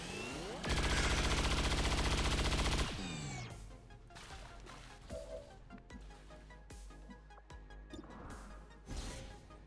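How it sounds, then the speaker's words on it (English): Gunfire in an XCOM-style Highlander Mod Jam campaign battle: a loud sustained rapid-fire burst of about two seconds, then scattered individual shots and impacts over lower background game sound, with no talking. "And continue the shooting."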